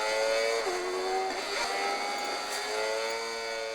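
Racing video game car engine, a thin whining tone that climbs and falls as the car brakes, drops a gear and speeds back up, playing steadily and fairly quietly with no talking.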